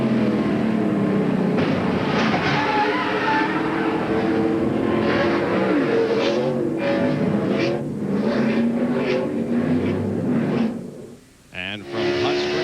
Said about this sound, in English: On board with Martin. Listen and watch.